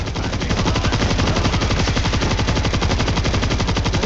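Machine gun fire in World War Z rattles loud and close in one unbroken, fast, even burst lasting several seconds, with nothing else heard over it.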